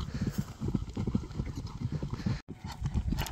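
A large horse runs with quick, rhythmic clip-clop hoofbeats, fairly close and steady, with a brief dropout partway through.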